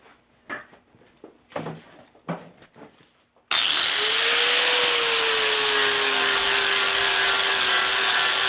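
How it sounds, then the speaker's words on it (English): An angle grinder fitted with a flap disc resurfaces a steel welding table, first with a few short taps and bumps, then a loud, continuous grinding whine with a slowly shifting pitch that runs to the end. "We're getting a lot more done with this new flap disc."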